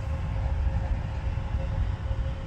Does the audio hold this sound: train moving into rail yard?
yes